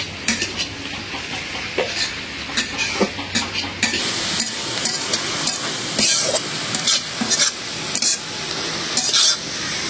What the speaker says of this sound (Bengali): পেঁয়াজগুলো লাল লাল করে ভাজা নিলাম।